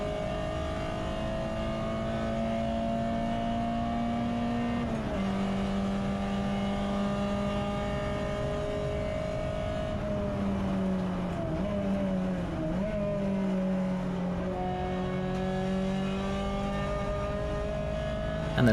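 Touring race cars, including Renault Clios, running at full throttle along Silverstone's Hangar Straight, a sustained buzzing engine drone with gear changes and shifting pitch as other cars close in, heard loud from inside the car.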